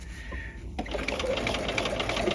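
A sewing machine runs steadily while stitching a tab welt pocket, its continuous whirring motor and rapid needle rhythm close and clear after a brief quiet start.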